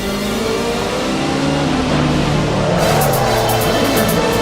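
A race car in Assetto Corsa drives close and loud through a corner, its engine droning steadily with pitch shifts while the tyres slide, the tone briefly changing partway through.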